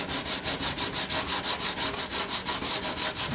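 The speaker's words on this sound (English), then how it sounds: "See, easy, quick sanding." Quick, steady back-and-forth hand sanding of fiberglass body filler on a 1969 Corvette C3, sandpaper wrapped on a stick, a dry rasping scrape repeating about five times a second, close and fairly loud with no talking.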